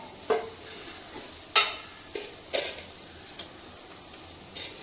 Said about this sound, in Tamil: கடாய் போட்டு கிரேவிக்கு எண்ணெய் ஊற்றியாச்சு நல்லா ஹீட்டாக